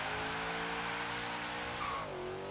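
A car engine in the video game Forza Horizon 3 drones steadily as it drives, its pitch sliding as the engine shifts near the end, with no speech.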